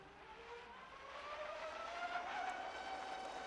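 A test car drives on a gravel surface, its engine note rising steadily as it pushes into a turn, with a continuous rough rumble and rising whine building over a few seconds.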